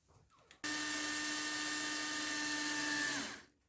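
A power driver whirs for about three seconds, sending screws into an RC car's front differential: a loud, steady motor whine starting abruptly and winding down at the end, close up and without voices.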